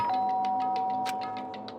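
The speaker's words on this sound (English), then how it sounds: "pressed the doorbell" A doorbell in the video game Danganronpa: Trigger Happy Havoc chimes with a single sustained electronic tone while a quick series of soft, rhythmic clicks patters underneath.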